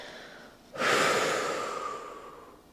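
A single long exhale during a gentle beginner Pilates breathing exercise, an airy breath close to the microphone that starts abruptly and slowly fades over about two seconds.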